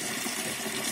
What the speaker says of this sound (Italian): Arriva l'acqua!